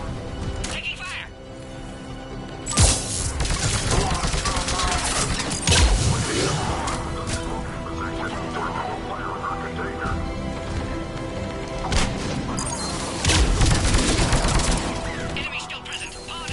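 Gunfire in the video game Mass Effect 3 during a checkpoint firefight: scattered sharp shots and rapid bursts mixed with crackling impacts, with voices talking over much of it.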